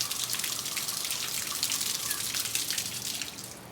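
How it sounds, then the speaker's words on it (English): Water runs steadily from a hot tub faucet in a lodge suite at a waterfall garden, a constant broad hiss with faint dripping texture, moderately quiet and alone with no voices. "You need to turn on and the water is coming here."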